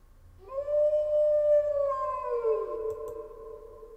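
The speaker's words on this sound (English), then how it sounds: "I can hear him, Foxy the pirate, howling from the depths of the canyon." Foxy the pirate from the game Dayshift at Freddy's 3 lets out one long wavering howl. It swells, holds, then slides down in pitch and slowly trails off, standing alone and clear.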